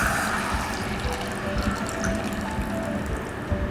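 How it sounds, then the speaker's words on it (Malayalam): Kudampuli soaking water pours into Kerala toddy-shop style fish curry masala in a pan, a steady close splashing and trickling stream that continues evenly throughout. "കുടമ്പുളി ഇട്ട് വെച്ച് ആ വെള്ളം കുറച്ച് ഒഴിക്കുക."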